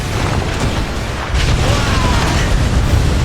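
A rocket launcher explosion in the video game Earth Defense Force: Iron Rain: a loud, sustained roaring blast with dense crackling rumble that swells midway and fills the whole moment.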